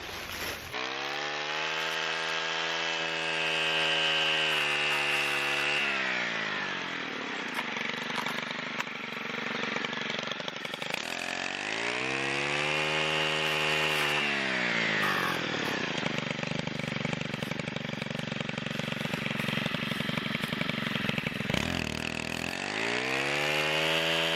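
A string trimmer fitted with a Tri Clone blade cuts through half-inch to one-inch tulip poplar saplings; the loud, close engine whines steadily, then dips and surges back in repeated cycles as it bites into the stems, with no talking.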